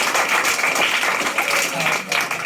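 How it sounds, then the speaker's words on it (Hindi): A seated audience claps for a young student being rewarded, with moderate applause running steadily for a couple of seconds and voices faintly mixed in. "आपने तो इनाम दे दिया इस बेटी को, इसके लिए तालियां बजा दी"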